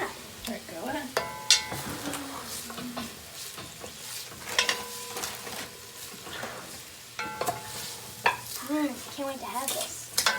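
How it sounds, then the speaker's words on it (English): Onions and mushrooms sizzle in a pan for beef vegetable soup while a wooden spoon stirs them, giving irregular scraping knocks over a constant frying hiss, with occasional voices in the background. "So she's going to stir that up for a minute."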